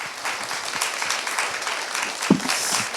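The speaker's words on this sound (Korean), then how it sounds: "큰 박수 부탁드립니다." Audience applauds at the opening ceremony of a Korean literature week event: sustained, dense clapping from a room full of people, steady and moderately loud throughout the short stretch, with one sharper bump near the end.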